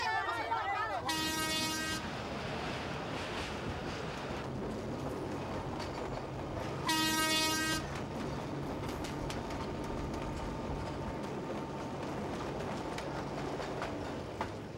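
A train runs on the railway between Djibouti and Addis Ababa, passing near Dire Dawa, with a steady rumble and wheel noise throughout. Two short horn toots sound, one early and one midway.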